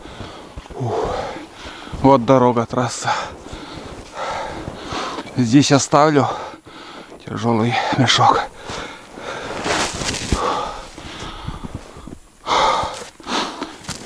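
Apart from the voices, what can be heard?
man panting, out of breath after hiking with heavy backpack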